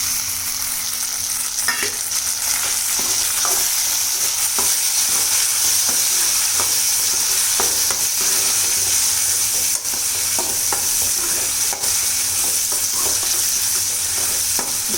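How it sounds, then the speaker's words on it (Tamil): Chopped tomatoes sautéing in hot oil in a pan for South Indian garlic kulambu, a steady close sizzle with frequent soft stirring scrapes throughout, no voices. "இது நல்லா வதங்கி வரட்டும்"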